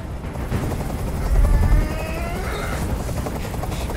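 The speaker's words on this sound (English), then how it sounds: "Tell that helicopter to get out of here." Helicopter noise in the video game Detroit Become Human, a steady rotor thrum with a heavier low thump midway, loud and close under a busy tense scene.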